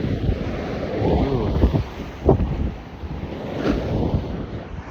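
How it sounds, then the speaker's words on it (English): Sea surf rolling in at Blackpool seafront, a steady broad wash of waves mixed with gusty wind noise on the microphone, fairly loud and continuous with no clear speech. "look at that sea, how nice it is."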